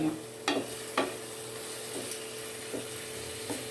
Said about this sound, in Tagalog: Pwede na natin ilalagay yung ating giniling na pork.